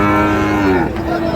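A Sahiwal breed calf at the Ambari cattle market in Dinajpur lets out one long, loud, close moo that rises and falls, with faint market noise behind it.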